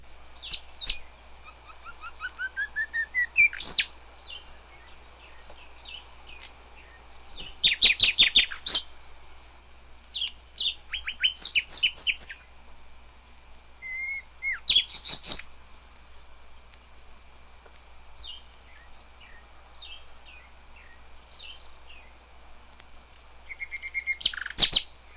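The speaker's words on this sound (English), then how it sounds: "you'll hear, away in the background, the ominous sound of the warbler tuning up" An African warbler sings from a bush with bursts of chirps, trills and chortles, set against a constant high drone of insects or crickets that runs under the whole scene.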